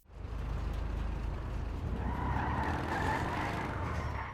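The Duke of Death, an armored muscle car in Grand Theft Auto 5, drives with a steady loud engine roar and tire skidding throughout, with no talking.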